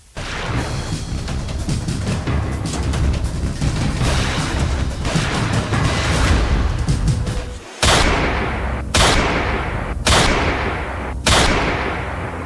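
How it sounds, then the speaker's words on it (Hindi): Rapid gunfire from a shooting incident: a dense, continuous crackle of shots followed by four loud, separate blasts spaced about a second apart, each ringing out briefly, with no talking. "ताबड़तोड़ फायरिंग की जो तस्वीरें आप अपनी टीवी स्क्रीन पर देख रहे हैं"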